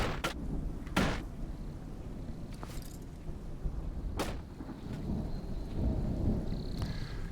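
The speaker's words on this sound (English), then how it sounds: "We've got a storm rolling through here." Thunderstorm in the video game Smalland: several sharp thunder cracks and rumbles break over a steady bed of rain, loud and close, with no talking.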